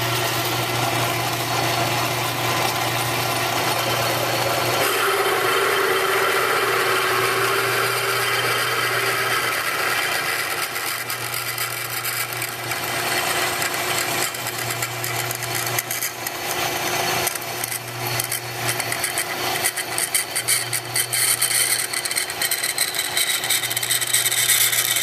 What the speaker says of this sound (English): I got my half-inch drill chucked in here now